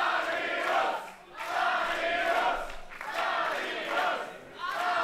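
Sold-out wrestling crowd in a community hall in Lanzenkirchen, cheering and chanting in loud rhythmic surges that swell and dip several times, rising in repeated waves like a unified chant.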